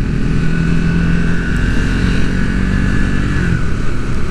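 A 2024 Triumph Speed 400 motorcycle pulls away in second gear with a steady, loud engine drone and a gently shifting pitch as it rides, under heavy wind rush and with no voices.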